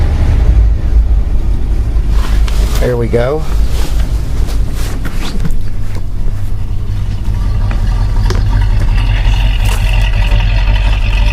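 A carbureted engine in a 1986 Tioga Class C motorhome starts and then runs with a loud, steady low rumble and some wind noise. Someone speaks briefly over it.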